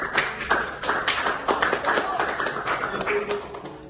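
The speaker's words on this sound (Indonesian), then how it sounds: "Oke, tepuk tangan kepada kelompok kita." A small classroom group claps for a presenting team, quick uneven handclaps close by at moderate volume, with a voice speaking over the applause.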